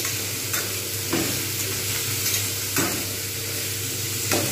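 Panch phoron spices and chilli stirred in hot oil for a Bengali pumpkin chhechki, a steady close sizzle broken by a few sharp scrapes of the spoon against the pan.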